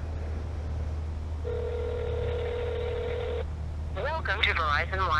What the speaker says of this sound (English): I'm calling customer service now.